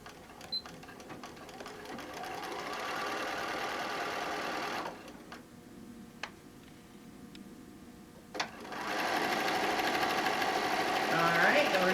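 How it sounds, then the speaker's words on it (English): Sewing machine running a straight stitch along a 1/4 inch seam while making a fabric name tag and phone bag, two sustained stretches of steady whirring with a pause between, close and clear, with faint talk in the background. "we're just going to sew all the way along."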